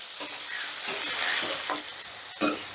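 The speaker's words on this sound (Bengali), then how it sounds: "আলুগুলোকে বেশ লাল লাল করে ভেজে নেব আলুগুলোকে আমি ঢাকা দিয়ে দিয়ে ভাজবো" Potatoes fry in hot oil in a covered pan, a steady close sizzle with a few brief stirring clatters and a sharper burst near the end.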